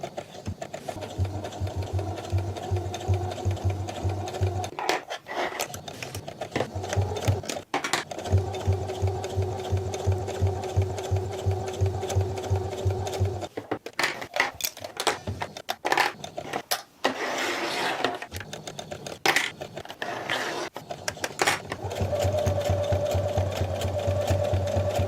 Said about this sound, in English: that's the extent of which I know how to sew with a sewing machine